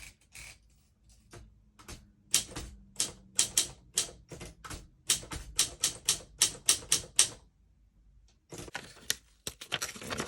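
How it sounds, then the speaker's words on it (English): An antique refinished typewriter clacks out a short line on creamy paper, with crisp, sharp keystrokes in uneven bursts, a pause, then a few more strikes, close and clear. "I love my antique typewriter."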